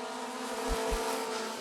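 Short track race cars at Rockford Speedway roar together at the green flag, a dense steady wall of engine noise with low thumps, loud and continuous with no talk.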